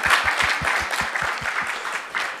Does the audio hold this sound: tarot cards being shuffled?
no